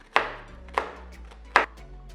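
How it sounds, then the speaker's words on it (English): Three sharp knife chops through a tomato on a cutting board, spaced unevenly with quiet pauses between them, close and fairly loud, no voices. "I'll chop finely the tomato"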